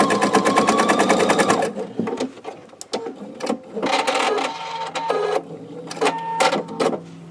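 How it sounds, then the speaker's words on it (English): A sewing machine stitches a quilt block seam, running in a fast, steady rattling burst at first, then starting and stopping in shorter runs with brief pauses between them. "I'm going to stitch that."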